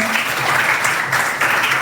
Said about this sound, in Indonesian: Berikan tepuk tangan untuk Natania.